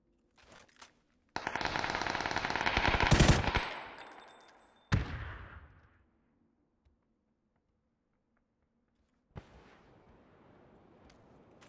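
Loud automatic gunfire from the video game PUBG: a long rapid burst, a shorter burst right after, then silence and a fainter, more distant volley near the end.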